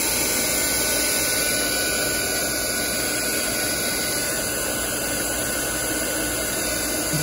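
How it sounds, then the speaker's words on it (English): A heat gun blows steadily on Woodubends moulding pressed onto a broken mirror, a continuous close, loud airy roar with a high whine that holds even for about seven seconds. "And hit it with the heat gun so it adheres."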